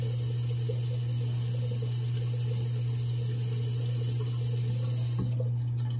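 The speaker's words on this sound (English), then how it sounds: "wet your razor" Water runs steadily from a bathroom tap to wet a razor during beard grooming, a constant close hiss and rush that cuts off near the end.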